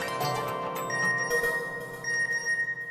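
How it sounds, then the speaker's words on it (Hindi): Phone message notification tone rings out in a busy indoor scene, a few bright repeated chimes sounding over background music and room noise, fairly close and clear. "अरे भाई, उसके मैसेज पे मैसेज आ रहे हैं।"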